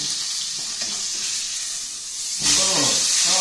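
A T-bone steak fries in oil in a pan under a lid, giving a continuous hissing sizzle that swells louder and brighter partway through, with no talk over it.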